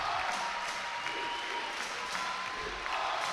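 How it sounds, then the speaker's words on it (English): Basketball crowd at a women's college game rising to its feet and cheering for the Toledo Rockets, a steady broad roar of voices and clapping filling the arena throughout. "the crowd begins to stand and cheer for their Toledo"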